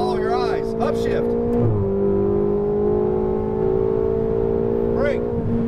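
A Ferrari 488 GTB engine drones under throttle, holding a steady high-pitched tone that shifts down around an upshift and then climbs again, while someone talks over it.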